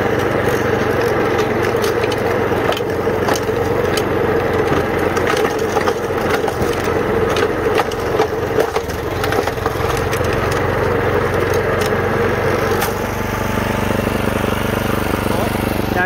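A snow blower engine running steadily while clearing snow, a loud continuous motor drone with crunching, splintering impacts as snow is chewed up and thrown, voices briefly present over the noise.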